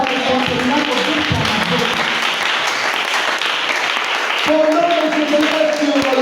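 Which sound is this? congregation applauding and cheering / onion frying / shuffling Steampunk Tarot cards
congregation applauding and cheering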